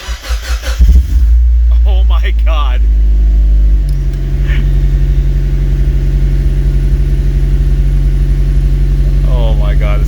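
A rebuilt Mazda Miata engine fires up for the first time after about a second of cranking, then settles into a loud, steady, throaty idle close by, while a voice speaks briefly over it.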